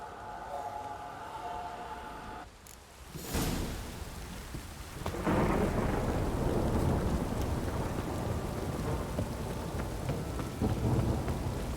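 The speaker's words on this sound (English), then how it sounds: "downpour's a bastard, it is" Heavy rain pours down steadily with rumbling thunder in The Witcher 3 video game, growing louder and denser after a brief lull, a dense roaring downpour throughout.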